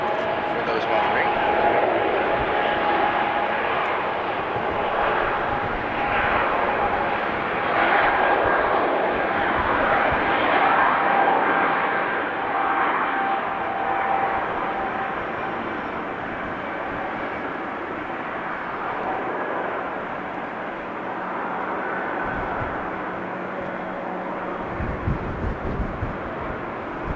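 An airliner taking off from runway 18L at Amsterdam Schiphol Airport, heard from a distance as a broad, steady jet roar that swells and slowly fades, with a person talking over it throughout.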